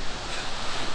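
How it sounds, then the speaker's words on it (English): Strong wind on the Clifton Suspension Bridge buffets the microphone in loud, uneven gusts, a roaring broadband rush with no voices. "It's very, very windy"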